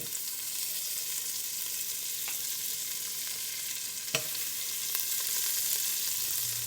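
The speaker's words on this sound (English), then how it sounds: "I'll be melting probably like 2 to 3 tablespoons of butter" Two to three tablespoons of butter melt in a pan over low to medium heat for an einkorn-crust apple pie, giving a steady, gentle sizzle with a few faint clicks and taps.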